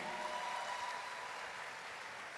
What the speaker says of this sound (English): Can we give her a round of applause once again?